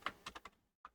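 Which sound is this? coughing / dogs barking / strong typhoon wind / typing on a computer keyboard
typing on a computer keyboard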